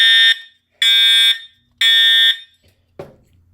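Fire alarm horn at high volume blaring in three long bursts, very loud and close, followed by a short clunk.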